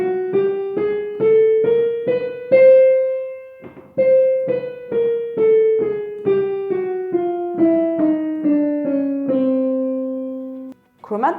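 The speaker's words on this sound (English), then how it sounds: "Chromatic scale from C sounds like this." A male singer hums a chromatic scale starting on C, stepping up by semitones and then back down in short, evenly spaced notes, close and clear with a brief pause at the top of the run.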